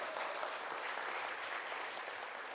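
A lecture audience at a population forum in Gwangyang applauds steadily and evenly, a dense wash of many hands clapping at moderate distance with no voices on top.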